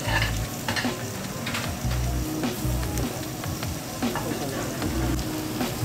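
Gyukatsu beef cooking at the table in a Japanese restaurant, a steady close sizzle and frying hiss with intermittent stirring and utensil scrapes throughout.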